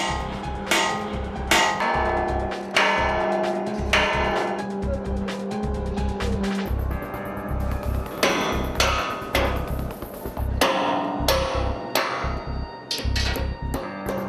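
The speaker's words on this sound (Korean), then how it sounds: "망치질로 지지대 프레임을 옮겨" Hammer blows on a steel tower crane support frame high above a city construction site, loud ringing metallic strikes in irregular bursts across the clip, no speech.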